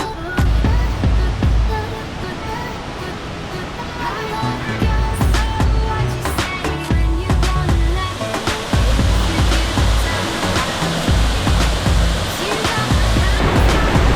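River water at the Vietnam–China border rushes and splashes loudly and continuously, with heavy low turbulence and bursts of spray, close by and filling the whole scene without talk.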